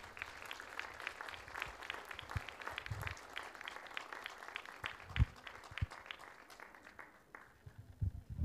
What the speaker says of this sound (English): Zain Ahmed, give him a round of applause.